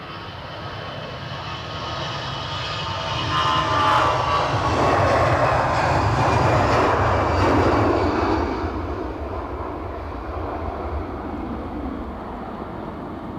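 An EasyJet airliner departs Edinburgh Airport bound for Milan, its engines a broad steady roar that swells to a peak mid-pass and then holds at a slightly lower level, heard from a moderate distance with no voices.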